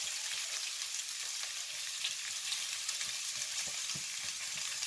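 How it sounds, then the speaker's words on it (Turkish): Meatballs sizzle in a dry pan with no oil, a continuous bright crackling fry with a few sharper pops, steady and close. "Yağsız olarak kızartacaksınız."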